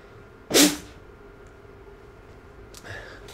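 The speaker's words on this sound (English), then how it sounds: "Gotta sneeze." A single sharp sneeze bursts out close to the microphone, followed by a quiet pause and faint murmuring.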